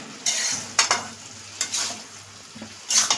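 Vegetables cooking with prawns in a pot for pui pituli, stirred in several distinct bursts of scraping and sizzling, loud and close, separated by quieter simmering hiss, no speech.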